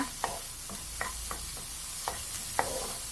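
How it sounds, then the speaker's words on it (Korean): Carrot, paprika and onion stir-fried in a dry pan with no oil, sounding as scattered scraping stirs and soft clatters against a quiet sizzle, alone with no talk. "당근, 파프리카, 네, 양파 같이 네, 넣고 볶아줍니다."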